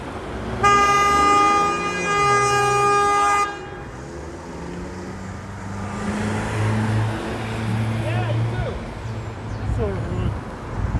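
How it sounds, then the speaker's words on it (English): A loud, sustained car horn blares steadily for about three seconds on a street in Hamilton Heights, Manhattan, then cuts off, leaving street traffic noise and a low engine rumble. "That was one of the longest honks that I've ever experienced"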